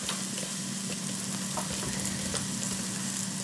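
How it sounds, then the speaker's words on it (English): Onions fry in a pan, caramelizing for brunch, with a constant close sizzle and crackle that holds evenly throughout, with occasional small pops and no talking. "I'm gonna put my little bit of onions here. I like it when it's a little bit caramelized"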